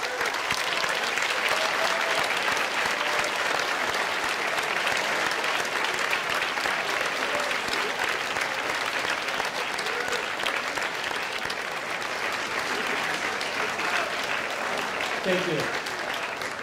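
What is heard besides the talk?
graduates applauding those who helped them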